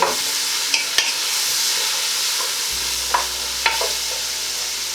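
Leeks sizzle steadily in a hot pan, a constant crackling hiss broken by occasional clicks and scrapes of stirring.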